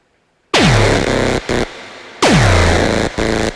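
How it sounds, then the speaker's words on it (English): Distorted kick drum from Omnisphere in a trance bass production in FL Studio, two loud booming hits with falling pitch sweeps and gritty sustained tails, separated by short gaps, alone. "And it's a kick drum in Omnisphere going through distortion."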